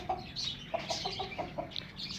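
Domestic hens clucking in a backyard coop, a run of short, quick clucks and soft cackles in an irregular rhythm, close by and moderately loud, with no speech.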